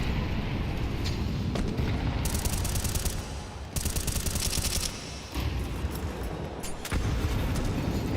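A grenade going off in Counter-Strike during a pro match, heard over a dense, steady wash of gunfire and game noise with sharp bursts and loud sustained crackling sections.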